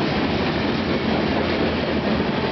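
A CN freight train loaded with lumber, petroleum tank cars and aluminum freight rolls past at Bayview Junction, giving a loud, steady, close-up rumble and rush of wagons with no pauses and no voices.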